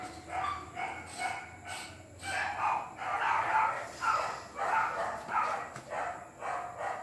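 Several dogs bark in repeated short bursts at some distance, faint but steady, one yelp after another across the whole stretch.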